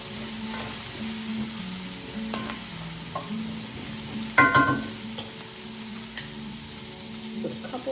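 Potatoes with raw garlic being stirred in a pan, with a steady sizzle and scattered scraping clatters from a utensil, one louder knock near the middle, and no talking.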